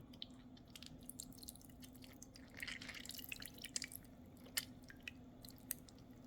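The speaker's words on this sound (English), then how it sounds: "I'm gonna take it, squeeze out the juices." Juices dripping as meat or vegetables are squeezed by hand while making spaghetti, meatballs and pasta sauce, heard as faint irregular wet drips and squishes over a low steady hum, a brief louder patch in the middle.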